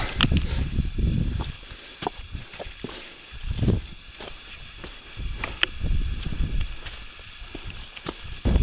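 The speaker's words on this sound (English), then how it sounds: "Alright, the wind's picking up." Wind gusting across an exposed mountain trail on Mount Monadnock's Dublin Trail, where trees thin out and rock takes over, rumbling in low bursts against the microphone with faint rustling and scattered crisp clicks, fairly close.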